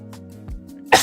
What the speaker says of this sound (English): I gotta sneeze real quick